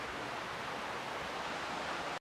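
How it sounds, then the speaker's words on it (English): A waterfall at a night safari rushes in a steady, full-bodied wash of white noise, fairly close and constant, with no speech over it. "Here's the waterfall."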